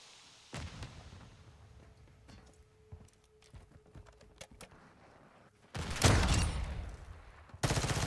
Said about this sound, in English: Somebody's shooting this guy.